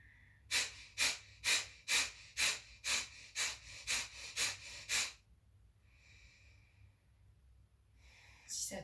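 A steady series of about ten forceful, evenly paced breaths from an abdominal yoga breathing cycle, close-up, then a quiet pause before another breath starts.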